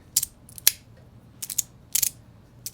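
Metal DuneBoy Swoop fidget slider by FidgetBoy snapping and clicking, with several sharp, close metallic clicks in quick pairs and short bursts, separated by brief quiet gaps.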